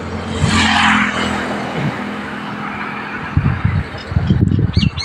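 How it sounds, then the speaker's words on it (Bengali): An auto-rickshaw approaches along a village road, its engine whirring and building from moderate to louder, with rattling bursts near the end as it draws close. "অটো উঠতে হবে শোনা"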